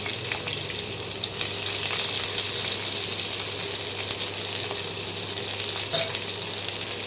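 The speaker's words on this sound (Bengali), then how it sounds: "এইবারে আমি পেঁয়াজ কুচিগুলো দিয়ে দিচ্ছি।" Chopped onions frying in a pan of hot oil alongside fish, a steady loud hiss and crackle close by with faint stirring, no voices.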